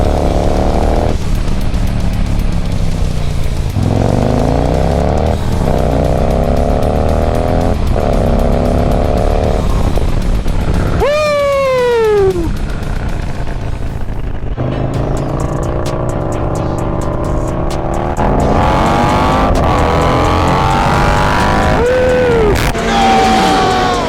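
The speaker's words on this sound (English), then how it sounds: "I just did a big ass wheelie." A Harley-Davidson engine, from a race between a 114 Road Glide and a 117 Low Rider with a Star 3030 cam, roars loudly at full throttle, with rising revs, a high-pitched surge mid-run and repeated pull-throughs in close, unbroken sound.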